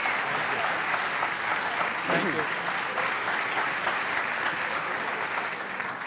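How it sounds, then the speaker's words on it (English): Audience applause at a science demonstration show, a dense sustained roar of clapping filling the room, steady and loud from start to finish, with a brief spoken thanks heard over it. "let's give all 3 of these people a nice round of applause."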